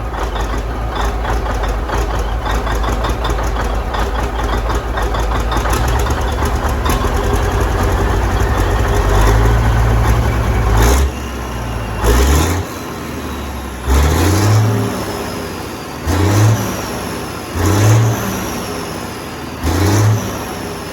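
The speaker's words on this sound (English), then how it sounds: "Got that ping and diesel noise. Well, I'm gonna bring it up just off idle." A diesel engine with a bad misfire and pinging idles roughly for several seconds, then is blipped just off idle in a series of short, evenly spaced revs with pauses between them, heard close and alone.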